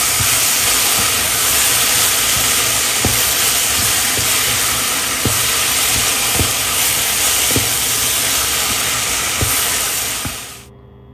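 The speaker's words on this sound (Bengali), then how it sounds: "এখানে বেগুন ভাজিটা হচ্ছে।" Eggplant (brinjal) slices frying in a pan give off a loud, steady broadband sizzle with faint periodic clicks. The sound fades out abruptly near the end, and no one speaks.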